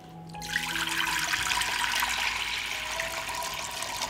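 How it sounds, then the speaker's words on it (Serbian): A litre of water poured into a cooking pot, a steady close gushing splash that starts abruptly after a brief quiet moment and keeps running evenly to the end. "U šerpu ću sipati litar vode."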